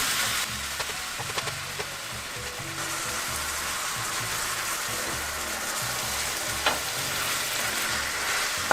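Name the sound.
food frying in oil in a pan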